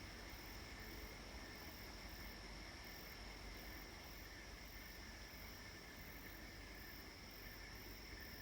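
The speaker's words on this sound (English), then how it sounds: "That noise you can hear sound like frogs. It's actually sand gropers." Sand gropers, or mole crickets, call at night in Western Australia on a hot evening after a storm. A continuous, faint, frog-like trilling chorus fills the distance, steady and unbroken, with no talking.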